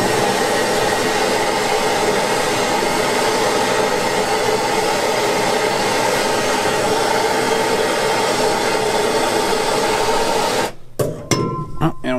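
A heat gun blows a loud, steady roar of hot air at close range, used to loosen a stuck part, then cuts off near the end, leaving a few clinks and handling noises.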